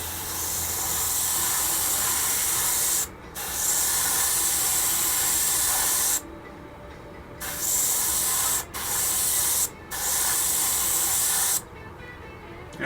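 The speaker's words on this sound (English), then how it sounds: "Let's test spray here. Spraying." Several long bursts of hissing aerosol spray from a spray can during bodywork on a 1969 Corvette 427, loud and close, each burst lasting a few seconds with short pauses between them.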